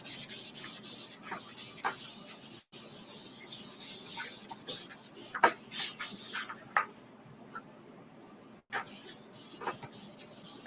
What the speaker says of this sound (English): I'm using the board eraser to get the rest of the design off.